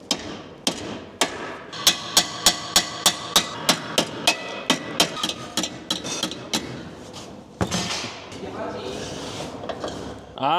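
Repeated sharp metallic hammer strikes on a metal part of a Kia K3 GT, about twenty in a steady rhythm, close and loud, followed by scraping and clattering of metal parts.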